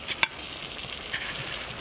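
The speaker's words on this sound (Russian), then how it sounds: "Все, как хорошо шипит кебаб." Boneless lamb kebab meat sizzles on a hot surface, a soft crackling hiss with a sharp pop near the start and a few lighter crackles after.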